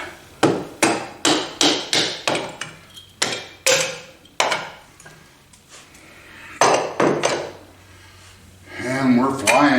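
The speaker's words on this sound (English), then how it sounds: "We'll bump our valves out." Repeated heavy hammer blows knock the valves out of a Saylor Beall 9000 air compressor during teardown, about a dozen sharp metallic strikes in a steady rhythm, then scraping and clattering of parts.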